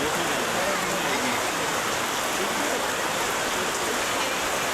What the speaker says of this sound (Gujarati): કેવો બધો વરસાદ ચાલુ છે બહુ વરસાદ છે